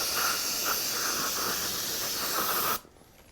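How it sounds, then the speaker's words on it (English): Aerosol brake cleaner spraying onto a shock spring during a Fox Podium shock rebuild for a Wildcat 1000X: one steady, close hiss lasting about three seconds, then cutting off abruptly. "A little bit of brake cleaner."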